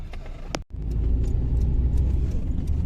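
A car drives along a road at dusk near Almaty, heard from inside as a steady low engine and tire rumble after a brief cut near the start.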